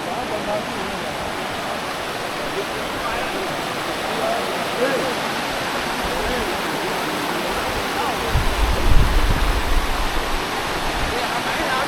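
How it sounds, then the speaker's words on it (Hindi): The Mandakini and Alaknanda rivers rush together at their Himalayan confluence in Rudraprayag, Uttarakhand, making a steady, loud, broad roar of churning water, with a deeper rumbling surge swelling near the end. "ये सामने है केदारनाथ से आने वाली मंदाकिनी। कितना साफ स्वच्छ जल है।"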